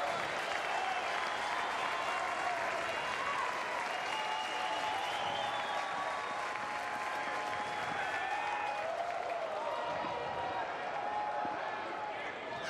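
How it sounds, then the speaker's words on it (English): A crowd at a Texas versus TCU college baseball game cheers and claps in a sustained, distant roar, with a commentator talking over it throughout. "Crowd involved for the first time really tonight."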